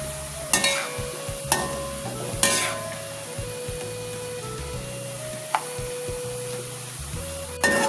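Sliced onions sizzle steadily in hot oil for Thalassery-style chicken biriyani, broken by several sharp clanks of a spoon stirring the pan. The sound is close and continuous, with no talk.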